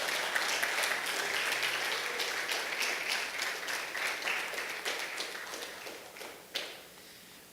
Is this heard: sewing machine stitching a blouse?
no